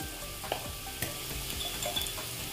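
Ground spices such as coriander, cumin, turmeric and chili powder frying in a pan for egg curry, a low steady sizzle broken by a few distinct spatula knocks.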